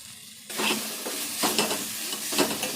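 Mint leaves, coriander and tomato pieces sizzle steadily in a pan for mint chutney, with a sudden onset followed by continuous close frying hiss and occasional stirring swells.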